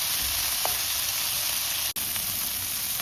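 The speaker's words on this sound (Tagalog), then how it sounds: "Ginisa ang palaya" Bitter gourd (ampalaya) sautéing in a hot pan, a steady close sizzle and frying hiss throughout with a brief stir clink early on and a momentary dropout near the end.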